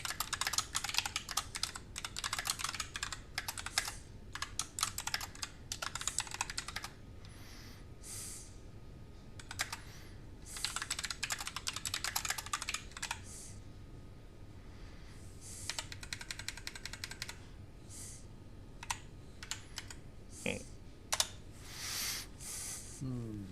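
Rapid bursts of computer keyboard typing during a PC building game session, close and clicky, coming in clustered runs with brief pauses and occasional breathing or snorts between them.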